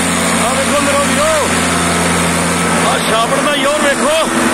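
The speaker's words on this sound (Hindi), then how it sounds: "गोटे गोटे चिक्कड़ के बिचों ट्राली लैके ट्रैक्टर छड़के चढ़ गया।" A tractor engine drones loud and constant as it hauls a PTO trolley loaded with sugarcane through deep field mud in Punjab. Voices are heard over the engine throughout.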